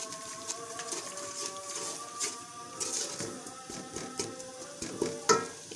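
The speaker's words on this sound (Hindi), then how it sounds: "मिक्स करेंगे इसको अच्छे से।" Uncooked rice is stirred with salt for aloo matar pulao, a soft scraping and rustling of grains against the bowl with scattered light clicks of a spoon, quiet and close.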